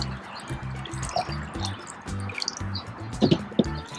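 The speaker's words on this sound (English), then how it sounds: "Add water into the glass bowl." Water poured into a glass bowl during a kids' science experiment, a close, steady trickle with small splashes and drips that grow busier toward the end, over a faint rhythmic background.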